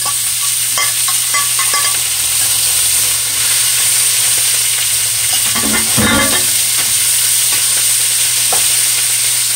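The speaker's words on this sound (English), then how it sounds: "when that grease is hot because it's going to pop and sizzle" Loud, steady sizzling of red potatoes, onion and green beans frying in hot grease, with occasional pops and stirring sounds, close up and continuous.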